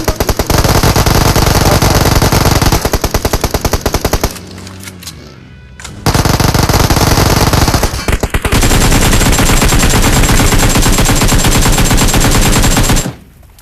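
Rapid automatic gunfire from PUBG Mobile rattles loud and close in long sustained bursts, breaks off briefly into quieter scattered shots, then resumes in another long, dense volley before stopping.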